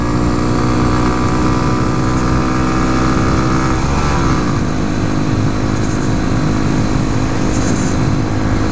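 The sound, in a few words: 2014 Honda Grom single-cylinder motorcycle engine revving while riding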